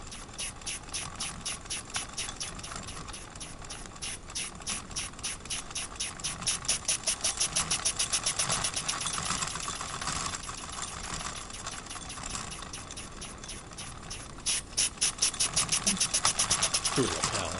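A Wilesco toy steam engine with a steam leak ticks over slowly, giving a regular run of soft, crisp chuffs that speed up and bunch together at times, while people chat quietly over it.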